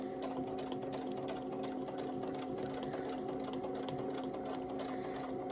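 A sewing machine stitches steadily along a curved seam in quilting fabric, a close, continuous whirring rattle at moderate speed with no pauses.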